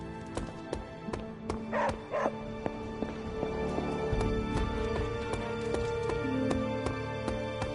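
Dog in the video game Marvel's Midnight Suns giving several yipping barks and soft whimpers over a quiet game backdrop with regular clicking ticks, fairly close and moderately loud.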